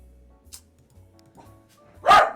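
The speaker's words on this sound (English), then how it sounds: "Sorry for the barking." A single sharp bark from Rocky the dog near the end, loud and close after a few quiet seconds of faint background sound.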